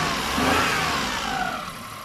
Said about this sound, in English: Let's rev it a bit.